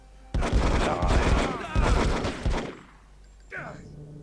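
Rapid bursts of gunfire in the video game Hitman 2, loud dense volleys for about two seconds, then a quieter gap and one further short burst near the end.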